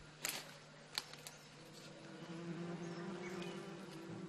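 A faint insect buzz rises and thickens after a few soft knocks and taps, a low droning hum of bees growing steadily from inside a smoked tree trunk in Cameroon.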